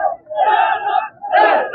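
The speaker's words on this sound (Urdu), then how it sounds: "حیدر حیدر کے نعرے لگ رہے ہیں محرم کے اندر" A crowd of Tehreek-e-Labbaik Pakistan workers chants a two-beat slogan in unison at a sit-in protest march facing heavy police presence, loud and close, the chant repeated twice.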